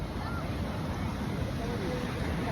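Ocean surf at a beach surf spot, a steady broadband wash of breaking waves with wind buffeting the microphone, continuous and fairly loud throughout.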